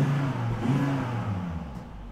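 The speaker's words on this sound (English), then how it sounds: "goes the first startup. Give her a little rev." Volvo V70R engine on its first startup after exhaust and suspension work, revving briefly with a rising then settling mid-pitched roar, close and steady for about two seconds with no talk.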